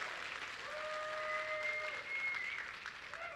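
Audience applause at a live event, a faint, continuous patter of clapping from a crowd heard at a distance, with a few thin whistle-like tones drifting over it.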